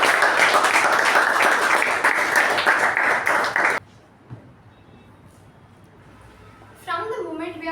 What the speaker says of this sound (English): Please help me welcome with a thunderous applause Toastmaster Pavani.